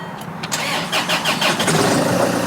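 A Land Rover Freelander with a history of cold-starting trouble cranks briefly, then its engine catches and settles into a steady idle, close and clear with no talking.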